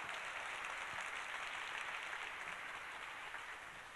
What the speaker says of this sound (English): A round of applause for all of our student winners.